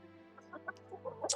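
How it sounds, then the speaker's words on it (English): A big rooster and other chickens of mixed breeds cluck on an Idaho homestead, producing short, soft clucks and calls over a low steady hum, ending in a louder, sharper squawk at the very end. "And then here's our big rooster Cash,"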